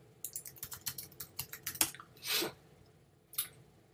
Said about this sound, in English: So let's type in backlinks.